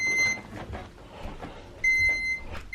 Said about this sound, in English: Now it's beeping a different way